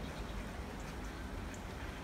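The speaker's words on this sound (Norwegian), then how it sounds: "Hvordan det regner." Rain showers down in Mérida on a cloudy, cool day, a soft continuous patter and hiss heard faintly and evenly from nearby, with no talking over it.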